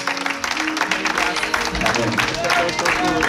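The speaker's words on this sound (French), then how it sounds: "Sous vos acclamations, nous voulons recevoir l'homme de Dieu, le pasteur Serge Alvedi" A church congregation applauds to welcome pastor Serge Alvedi, with dense, steady clapping and crowd noise filling the room, mixed with voices and music throughout.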